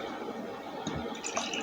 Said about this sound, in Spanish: Entonces colocamos 200 mililitros de agua.